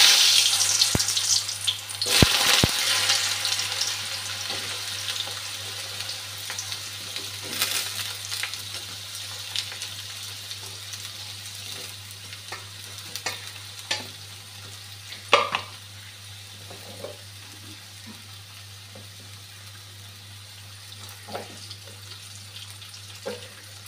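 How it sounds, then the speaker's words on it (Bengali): Potatoes fry in a pan for a Bengali jhinge posto and tomato chutney meal, a steady soft sizzle with occasional stirring clinks and scrapes, close by with no talk. "আলুটা আগে ভেজে নিচ্ছি।"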